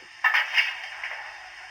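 A Dapol O gauge Pannier Tank model locomotive's onboard sound plays buffering up: a couple of quick, close metallic clanks in succession that fade into a soft hiss. No voices.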